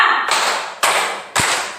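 Three sharp hand claps in a classroom, spaced about half a second apart, each ringing out briefly in a reverberant room.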